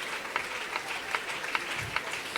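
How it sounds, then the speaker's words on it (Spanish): A church congregation at a Spanish-language service applauds together, giving steady, rhythmic clapping that carries on loudly throughout. "los aplausos tienen que ser para Él"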